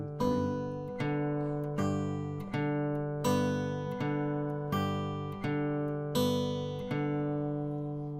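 Fingerpicked guitar plays a steady alternating bass pattern with regular plucked attacks and ringing two-note pinches, clean and close, no voice.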